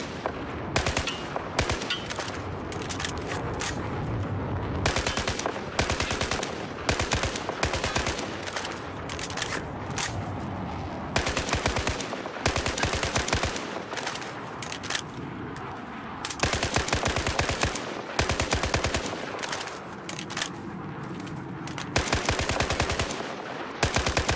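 Rapid automatic gunfire in Battlefield 4 crackles in repeated bursts separated by short pauses, loud and close, with brief single shots mixed in and no talking.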